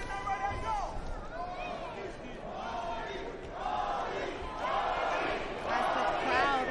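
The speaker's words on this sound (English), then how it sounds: "As the crowd breaks out in chants of Holly for the challenger here tonight." An arena crowd at the Holly Holm vs Stephanie Han boxing match chants Holly's name in rhythmic, repeated swells about once a second, loud and echoing, with a commentator talking over it.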